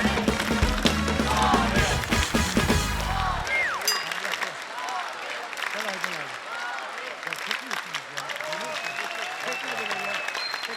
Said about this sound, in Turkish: Alkışlar mavi masa.